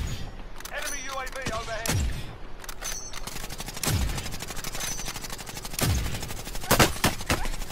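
Video game gunfire crackles in several separate bursts, with sharp shots and thudding impacts spread through the clip while players talk over the top.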